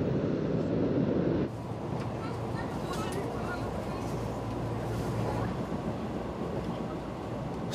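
Old train rattling and jolting along worn tracks, a continuous rumble heard from inside the carriage with scattered clanks and knocks, fairly steady and moderately loud.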